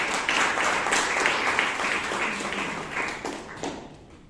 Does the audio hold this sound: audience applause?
yes